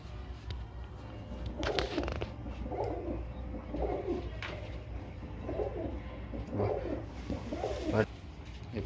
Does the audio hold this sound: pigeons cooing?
yes